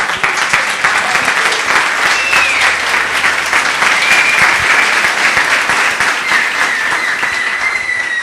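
A church congregation applauds steadily for several seconds, a dense, even wash of many hands clapping, with a faint voice rising above it.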